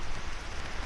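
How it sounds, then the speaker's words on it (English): Steady rain pattering on surfaces close by in a Costa Rican rainforest, a dense continuous hiss with no voices. "It's raining"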